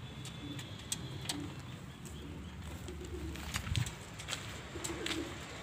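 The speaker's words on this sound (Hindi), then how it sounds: "और यहाँ पर अभी सभी कबूतर नहा रहे हैं।" Pigeons coo softly and repeatedly in a loft of domestic birds, low murmuring calls under light chirps and faint background noise, with no talking.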